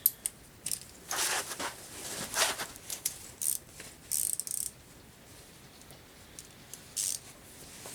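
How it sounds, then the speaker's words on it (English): A torque wrench ratchets and clicks while tightening bolts on a 1995 Harley-Davidson Sportster during a stator change, with quiet, close mechanical clicks coming in short irregular bursts and pauses. "So now let's move on to the torque wrench."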